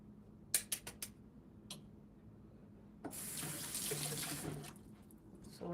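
A kitchen faucet runs water into a pot of lentil and farro soup, starting after a few sharp clicks and flowing steadily for a few seconds, close and fairly quiet.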